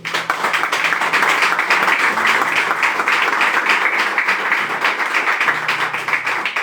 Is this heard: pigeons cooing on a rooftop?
no